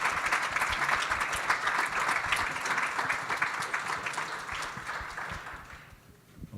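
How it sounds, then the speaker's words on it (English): An audience gives a panel on wrongful convictions a sustained round of applause at a Brooklyn Nets community event; the clapping is dense and loud before fading out at the end. "let's give a round of applause for our panel"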